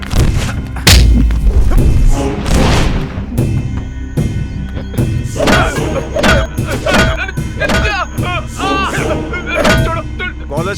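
Heavy thuds and smacking blows from a fight scene in a dubbed Indian action movie, arriving in irregular bursts over raised voices and shouting.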